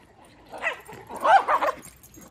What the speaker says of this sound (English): And these keep barking.